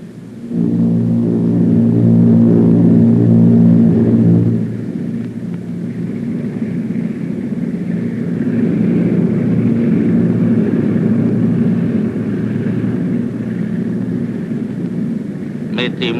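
Aircraft inboard engines spin up into a deep droning hum that swells, dips, then steadies into a continuous roar, with voices talking over it, in a 1951 film.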